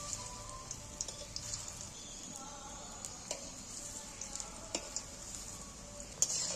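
Oil sizzles and crackles steadily as egg and green banana fry until red-brown, with scattered pops and the light scrape of stirring, no one speaking.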